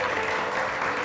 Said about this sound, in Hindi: मैं चाहता हूँ रऊफ भाई के लिए तालियां बजाएं